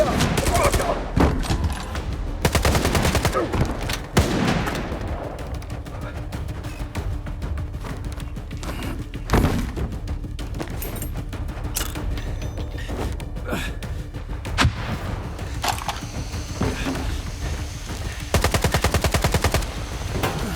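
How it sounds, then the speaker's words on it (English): Loud gunfire in the shooter game S.T.A.L.K.E.R. 2: Heart of Chornobyl, rapid automatic bursts and single shots recurring over about twenty seconds, close and harsh, with gasps and breathing between volleys. "someone is shooting, someone has a gun"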